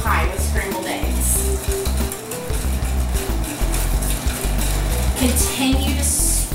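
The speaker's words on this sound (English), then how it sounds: "Continue to whisk, stirring the eggs." Eggs being whisked and stirred in a bowl for a grasshopper pie filling, a busy run of rhythmic metallic scraping and clinking against the bowl, close and continuous, with a brief pause midway.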